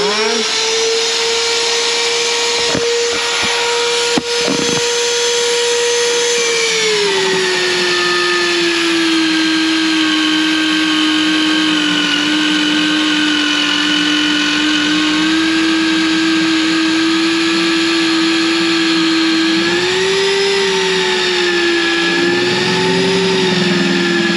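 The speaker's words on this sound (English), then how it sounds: "We'll go ahead and turn this on." A Vevor magnetic drill runs continuously with a loud, steady motor whine whose pitch sags and recovers a couple of times, heard up close with no talking.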